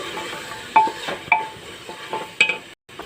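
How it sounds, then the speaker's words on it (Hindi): Meat being sautéed with Kashmiri red chilli in a pan, a spoon scraping and clinking against the metal in several sharp strokes over a soft sizzle, with a brief quiet gap near the end. "और थोड़ी सी हम इसमें कश्मीरी लाल मिर्च 1 चम्मच ऐड कर देंगे और इसको हम बहुत अच्छे से भून लेंगे।"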